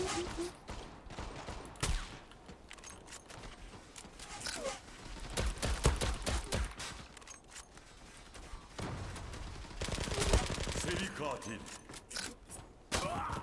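Rapid bursts of gunfire and sharp sniper shots crackle through a video game match, dense volleys with louder isolated cracks, mixed under a player's talk.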